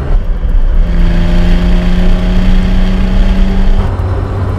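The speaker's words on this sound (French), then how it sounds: "que dire du 6 cylindres et sa sublime partition à milieu des bruits trafiqués d'aujourd'hui" Aston Martin DB6 six-cylinder engine revving, a loud, close, sustained engine note that climbs and holds a steady tone, then settles slightly lower near the end, with no talking.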